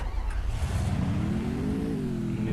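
A motorbike in the Free Fire battle royale game drones close and loud, its engine pitch climbing smoothly as the bike rides on, with no talking over it.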